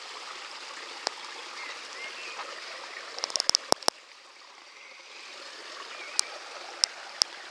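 Filtered water flows steadily in a garden pond, a soft continuous trickle heard fairly close, with a few sharp clicks and taps breaking through near the middle and toward the end.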